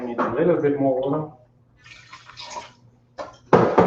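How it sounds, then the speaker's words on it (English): Water splashes and trickles into a pot for cooking in short bursts, with someone speaking before the pouring begins. "So now I'm going to add 2 cups of water."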